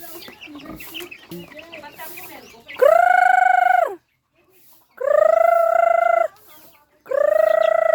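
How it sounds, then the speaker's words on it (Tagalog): Chickens cluck close by in the Cagayan Valley, Philippines, soft scattered clucks followed by three long, loud crowing calls separated by pauses. "Ayan yung mga manok."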